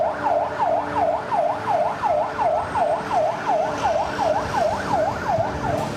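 An ambulance siren wails loudly in city traffic, a fast rapid yelp sweeping up and down about three times per second, continuous and close, over low road rumble with no voices.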